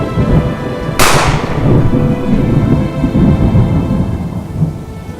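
A typhoon storm with a sharp, loud thunderclap crashing in after a second, over steady heavy rain and rumbling low noise that continues throughout.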